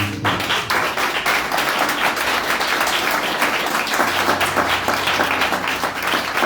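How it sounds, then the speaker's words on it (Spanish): Church congregation breaks into sustained applause, a dense continuous wash of many hands clapping loudly throughout, with a faint voice beneath. "Un aplauso al Señor."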